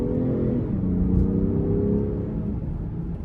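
A 2023 Range Rover Sport with a twin-charged inline-six, in sport mode, gives a deep, steady engine drone with a brief rise in revs during a paddle-shift downshift, heard from the cabin.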